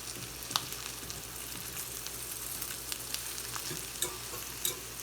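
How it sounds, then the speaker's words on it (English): Steady, soft sizzling of seitan frying in a pan, with a few faint scrapes and stirring taps over the constant crackle. "just let it keep frying down"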